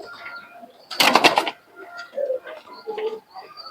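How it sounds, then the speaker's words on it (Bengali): Bangladeshi Naptha and Giribaz pigeons flap their wings in a brief burst, then coo and murmur softly, close by and fairly clear. "কবুতরগুলোর চোখগুলো দেখুন।"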